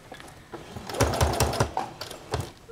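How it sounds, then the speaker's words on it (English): A sewing machine stitches back and forth over a hook and loop laundry tab, giving a short close, uneven run of quick mechanical needle thumps with no talk. "I will do my back stitch here just to be sure"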